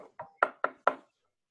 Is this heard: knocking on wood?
yes